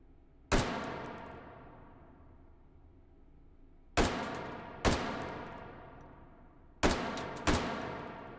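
M16A4 rifle in the VR game Hot Dogs, Horseshoes & Hand Grenades fires five sharp, loud single shots, spaced irregularly, each trailing off in a ringing decay, with no talk.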